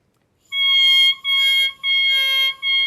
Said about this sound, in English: it's kind of unique because the reed makes a noise on its own